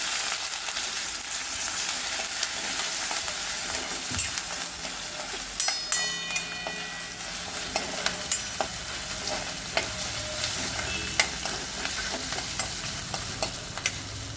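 Ginger garlic paste sizzling as it is stirred in a hot pan, a steady fry with scraping stir strokes and light clinks of the utensil throughout.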